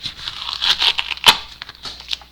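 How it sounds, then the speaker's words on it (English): Masking tape peeled up off watercolour paper, a close, crackly tearing rasp in several uneven pulls with one sharper rip midway. "I use a piece of masking tape to start pulling this up"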